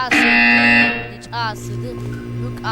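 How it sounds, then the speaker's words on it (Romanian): A loud, flat electronic buzzer sounds once in Portal 2, holding for nearly a second before cutting off, followed by a lower droning tone and brief synthetic voice sounds. "When you hear the buzzer, look up at the ceiling."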